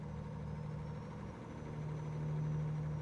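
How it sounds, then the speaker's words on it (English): A video game car engine idles with a low steady hum and a faint clinking, chugging rattle, rising slightly in level toward the end. "You hear that little clinking, chugging kind of sound?"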